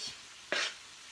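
Tomatoes hit a hot frying pan with one short, sharp burst of sizzle that quickly settles into a faint background hiss.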